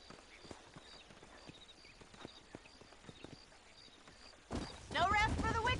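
Horse hooves clip-clop in a steady walking rhythm through the Red Dead Redemption desert near Armadillo, fairly faint, then a voice breaks in loudly at the end.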